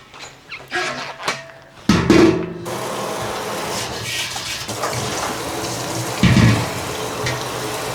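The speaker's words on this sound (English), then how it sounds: "First step is I'm going to manually clean one of the buckets" Water runs and splashes as a milk bucket is scrubbed by hand in a sink, with rubbing, scraping and clunking of the bucket, close and fairly loud, with louder sloshing bursts.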